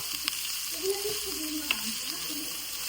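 Bottle gourd peel sizzles steadily in a hot frying pan, a constant crackling hiss with a couple of light stirring clicks and a faint voice in the background.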